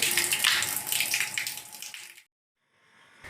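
An electric water pump pushes water through a newly fitted delivery line as the airlock clears, giving a loud, steady rushing gush for about two seconds before it cuts off abruptly, then a faint return of flow.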